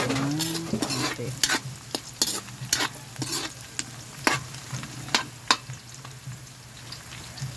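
Liver and gizzard frying in a pan for pansit bato with canton, a soft steady sizzle under a series of sharp scraping and tapping strokes as the pieces are stirred.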